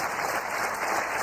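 A studio audience claps together in a short, steady burst of applause on a French political talk show.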